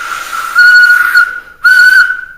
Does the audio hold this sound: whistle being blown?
yes